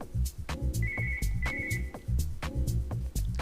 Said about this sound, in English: There's the phone. Whoops. That is loud.